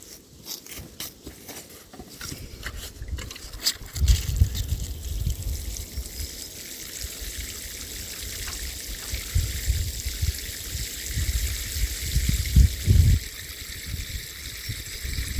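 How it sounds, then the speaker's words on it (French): Water poured from a can or hose onto the soil around a newly planted fruit tree in an orchard, a steady trickling splash with low gurgling bursts near the middle and toward the end, close and fairly loud. "Donc maintenant, je vais arroser."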